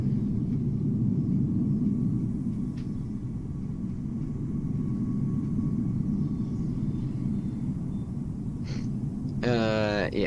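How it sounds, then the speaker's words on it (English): A Boeing 737-800 in KLM livery in Microsoft Flight Simulator rumbles past at Amsterdam Schiphol as a steady low roar, with a short rising whine near the end. "Here comes the 737-800. Looks like in a KLM livery"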